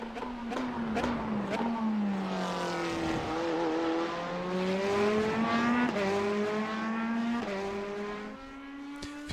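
A GT race car in a racing video game roars with a sustained engine note that climbs through the gears, dropping sharply at each upshift and rising again, loud and continuous with several rapid pitch sweeps.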